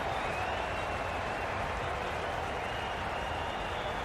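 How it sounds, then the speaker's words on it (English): Crowd in a Cricket 22 match cheering and applauding, a steady dense roar of clapping and voices filling the stadium without break, moderately loud and even throughout. "Will you listen to the crowd? They are loving it."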